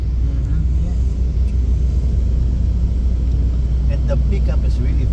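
A 2024 BMW i4 eDrive40 M Sport Gran Coupe accelerates in sport mode, giving a low, steady cabin rumble with faint voices underneath.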